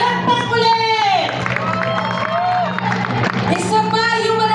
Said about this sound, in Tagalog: Palakpak ulit!